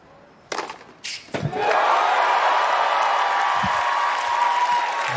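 Tennis crowd at the US Open erupts after a couple of sharp thuds, swelling into sustained, loud cheering and applause that holds steady to the end.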